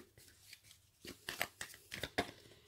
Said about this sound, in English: So I'm just going to shuffle the cards, first of all.